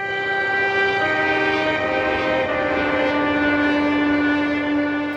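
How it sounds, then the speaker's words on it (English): A Fin guitar patch from a software synth played monophonically: a sustained, bright, harmonically rich tone that glides between single held notes, steady and loud with no talking. "this sound in layer D, the Fin guitar, will be monophonic"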